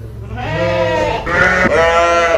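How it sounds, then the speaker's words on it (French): Sheep in a sheepfold bleat loudly and close up, with several overlapping wavering cries running continuously through the stretch and no talk over them. "Ce sont ces moutons qui restent dans cette bergerie"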